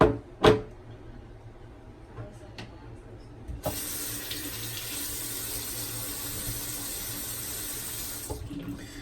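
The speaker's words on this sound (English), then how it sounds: "Pour my bloom water out." Shaving bloom water is poured out into a bathroom sink, a continuous close splashing trickle that starts abruptly after a few knocks and clatters and runs on steadily.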